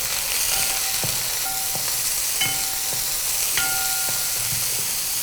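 Coarsely chopped red shallots fry in a pan for a spicy beef chilli fry, giving a steady close hiss broken by several short tonal scrapes of a utensil against the pan.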